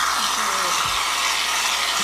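A continuous loud hiss of spray from a pressurized can runs throughout, steady and close, with a brief voice-like sound early on.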